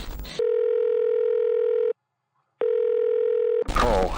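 Telephone ringback tone while calling Brenda, a loud steady electronic tone holding for about a second and a half, stopping briefly, then sounding again before a voice cuts in.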